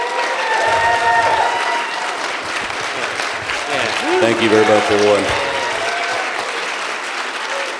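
A convention audience at the American Atheists 2019 gathering gives sustained applause for a speaker, clapping steadily while someone speaks over it briefly near the middle.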